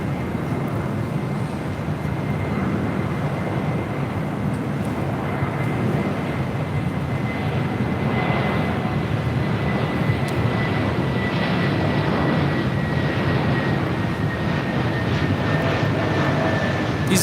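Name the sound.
Delta Airlines Airbus A321neo jet airliner landing at LAX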